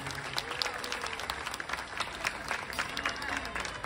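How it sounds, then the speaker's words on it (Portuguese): Distant crowd applause at a live concert in Ponta Delgada, Azores, steady and fairly faint, with a few individual claps standing out and a voice briefly audible beneath. "Uma salva de palmas para ele também"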